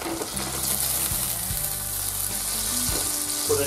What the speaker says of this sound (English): Pour some butter in your frying pan,